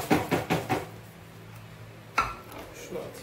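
Dishes and cutlery clatter as a dishwasher is emptied in a home kitchen, a quick run of four loud clinks at the start, then a quiet pause and one more sharp clank with softer handling after.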